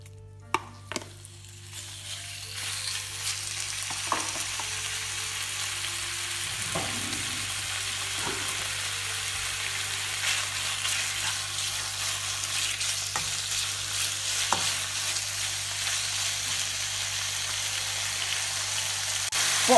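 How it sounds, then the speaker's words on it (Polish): Steady, close sizzling of marinated chicken frying in hot rice oil in a Chinese chow mein dish, with a few clicks and stirring knocks near the start, continuing without pause. "Smażymy przez około 2 minuty."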